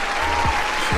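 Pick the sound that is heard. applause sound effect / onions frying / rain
applause sound effect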